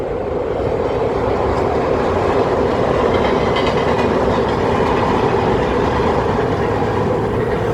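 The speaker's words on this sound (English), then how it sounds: "Actually, that's a red line train." A MARTA Red Line rapid-transit train arrives at West End station, a loud, steady roar of rolling wheels and motors that fills the platform without letup, with no voices.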